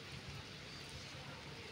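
Light rain falls over Delhi NCR around Ghaziabad and Noida, a soft, steady, faint hiss of drizzle with no clear individual drops and no talking.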